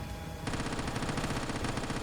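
A long-range cannon in the zombie survival game Quarantine Z fires a steady, rapid burst of shots that starts abruptly and runs loud and continuous to the end, with no voices.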